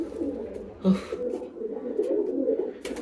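A female pigeon on her nest gives soft, low continuous cooing, close by, with one slightly stronger coo near the start.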